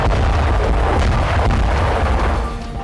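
Bomb explosions rumble in a dense, loud, continuous barrage with deep booms and crackling bursts, close and overwhelming throughout.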